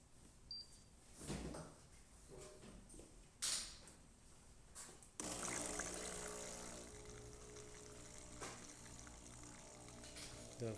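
A Philips espresso machine clicks and knocks a few times, then dispenses hot water with a sudden, steady hissing rush that continues to the end. The sound is quiet and close.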